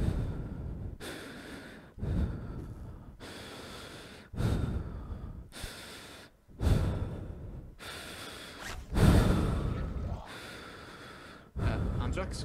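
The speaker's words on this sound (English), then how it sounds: "Stop breathing in the mic, please" In Garry's Mod voice chat, a player breathes heavily into the microphone, loud close-up gasps and sighs repeating roughly every two seconds, each harsh and rushing, with quieter gaps between.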